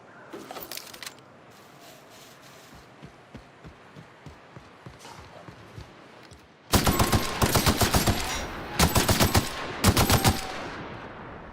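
Rifle gunfire in the video game The Outer Worlds: faint, rapid shots and footsteps at first, then several loud, sharp automatic bursts close up in the second half.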